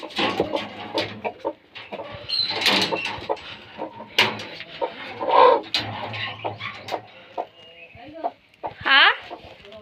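Chickens clucking around a rural home, with several short calls and a rooster-like crow near the end, sounding close and intermittent amid other household noises.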